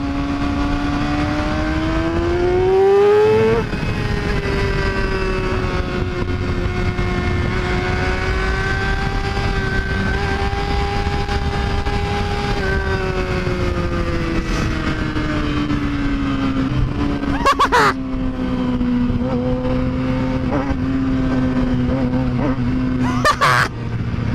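Yamaha R6 motorcycle engine held on a pit limiter, a steady high-pitched buzzing drone that rises and dips slightly in pitch for about twenty seconds, loud and close, with brief rough bursts near the end.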